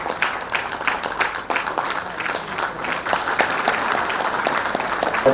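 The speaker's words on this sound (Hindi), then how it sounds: "जोरदार तालियों से" A crowd at a Jharkhand administrative service association ceremony applauds loudly and continuously, many hands clapping in a dense, even roar with individual sharp claps standing out throughout.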